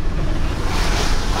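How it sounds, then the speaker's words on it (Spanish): Water rushes down from the Volcán de Agua in Guatemala during the rains, a steady loud roaring flow mixed with wind noise. "Tenemos agüita ahí del volcán."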